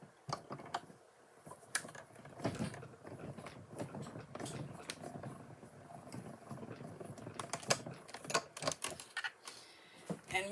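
Die-cutting machine cutting Christmas tree shapes from stamped cardstock, a quiet run of rapid irregular clicks and crunches with brief pauses, close and fairly soft.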